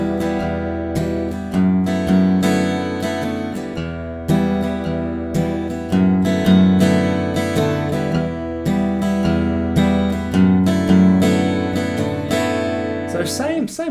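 An acoustic guitar plays the chords of a song in a steady, looping strum. Some down-strokes hit only the top bass string, giving a repeating pattern of full chord strums and single bass notes, close and clear.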